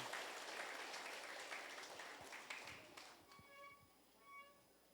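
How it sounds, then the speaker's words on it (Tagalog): A church congregation claps loudly together for a few seconds, the dense applause thinning and fading toward the end into a quieter room. "Sige po, palakpakan natin si Lord, yung malakas na palakpak."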